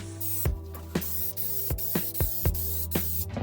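Spray painting a second coat onto a guitar body: a series of short, sharp aerosol hisses in an irregular rhythm, about eight bursts over a steady low hum, close by with no talking.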